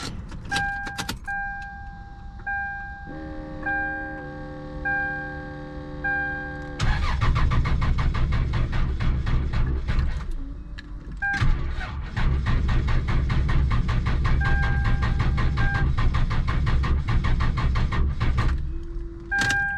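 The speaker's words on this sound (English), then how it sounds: "we're gonna go ahead and give it its first startup" A car fitted with its first turbo engine cranks over on its very first startup, with a steady whine and repeated cranking attempts that stop and start again, and the starter sounds weak.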